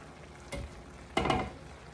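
Cabbage cooking in a pan in a home kitchen, two brief bursts of sizzling and stirring scrapes, the second longer and louder, over a quiet background.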